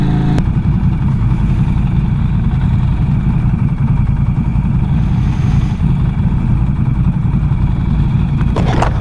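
Norton Commando 961 SP, a British air-cooled motorcycle, with its engine running steadily close by: a loud, continuous low mechanical rumble, no speech.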